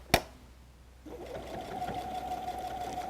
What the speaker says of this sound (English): So I'm going to sew on my first fold